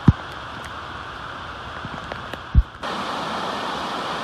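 Loud waterfall at Bedford Reservation on a rainy day, a dense steady roar of falling water, broken by a couple of brief thumps before the rushing noise jumps louder.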